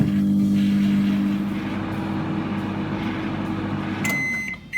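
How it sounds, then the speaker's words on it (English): A microwave oven hums steadily with a low drone, ending in a few high electronic beeps near the finish. "placing that in the microwave, and then 2 minutes."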